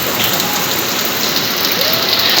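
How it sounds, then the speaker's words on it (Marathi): Heavy rain pours steadily at close range, a dense continuous hiss of drops striking surfaces with no voices and no break for the whole stretch. "आज बघा किती पाऊस मस्त पडतोय"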